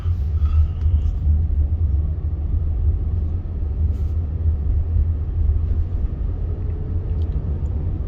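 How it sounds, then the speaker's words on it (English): A car passes through an all-way stop sign, heard as a steady low road rumble from inside a waiting self-driving taxi, continuous and fairly loud with no talk. "Letting that car go through"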